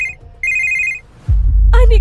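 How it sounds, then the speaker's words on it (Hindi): A telephone rings with two bright electronic trills separated by a short gap, loud and close, followed by a low thump and a burst of speech at the end. "तभी अनिका को आया एक ऐसा फोन कॉल जिसे सुनकर जम गए अनिका के पैर"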